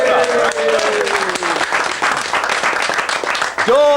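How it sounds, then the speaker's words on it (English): Studio applause on a radio talk show, a short burst of dense clapping laid under a bright musical jingle with rising tones, lasting a few seconds at steady loudness. "Round of applause for the quickness of the stuff."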